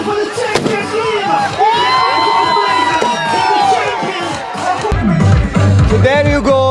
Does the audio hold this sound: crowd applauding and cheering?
yes